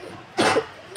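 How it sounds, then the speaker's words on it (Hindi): A single harsh cough burst inside a moving vehicle, fairly loud and close, rising out of quiet background noise and lasting about a quarter second. "ये जैसी खांसी हो गई है"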